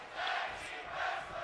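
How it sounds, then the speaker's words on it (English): Virtual arena crowd chanting during a WWE 2K24 tag team wrestling match, a steady rhythmic roar of many voices rising and falling in two swells. "That was a very American-y sounding crowd."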